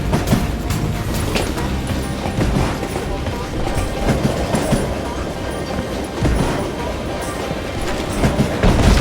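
A moving train in the video game Call of Juarez: Gunslinger rumbles and clatters loudly and continuously, with sharp metallic knocks and impacts scattered over the steady roar.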